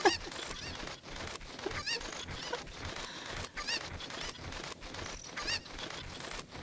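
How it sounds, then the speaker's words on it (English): A Cucco chicken in the video game Zelda Ocarina of Time clucks in short repeated bursts, with fairly loud squawks scattered over a busy game background. "I'm running around with her chicken."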